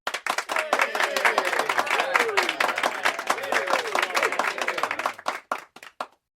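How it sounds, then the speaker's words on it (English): Applause sound effect dropped into a podcast: dense, sustained crowd clapping at moderate loudness, thinning into a few scattered final claps before stopping. "If it was good, do an applause."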